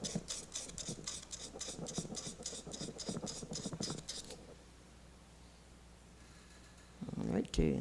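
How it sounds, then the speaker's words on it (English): Rapid rhythmic rasping strokes from sanding a pen blank spinning on a wood lathe, steady for about four seconds, then a quieter pause before a brief burst of handling noise. "You sand one direction from your bushing over that high area."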